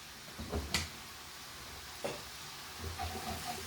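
Soy sauce sizzles in a pan of noodle stir-fry, a soft steady frying hiss broken by a few clinks and scrapes of stirring.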